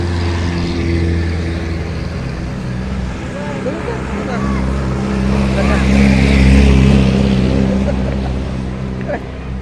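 Jeepneys and other vehicles idle and rumble past on a busy Baguio City street near Wright Park, a steady close engine drone swelling as one passes, while people chat in the foreground.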